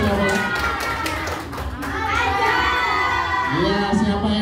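Schoolchildren in a classroom cheer, shout and clap together in a loud, sustained burst of crowd noise, with a teacher's voice briefly heard among them.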